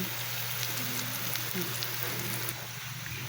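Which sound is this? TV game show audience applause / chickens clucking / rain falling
rain falling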